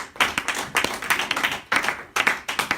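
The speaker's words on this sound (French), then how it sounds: "acclamons pour vous-mêmes" A church congregation applauding together in loud, rhythmic bursts of clapping that swell and pause several times, close and lively.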